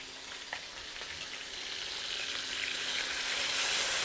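Stock splashed into a pan of browning meat, a soft hiss that swells gradually into a fuller, louder sizzle over a few seconds, with no voices.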